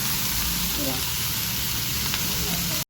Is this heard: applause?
no